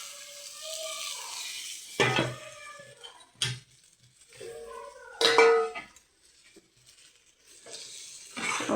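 Previously fried potatoes are dropped into a pan with spices for a rohu fish head muri ghonto, giving a few separate bursts of metal clatter and brief sizzling, with quiet pauses between stirs.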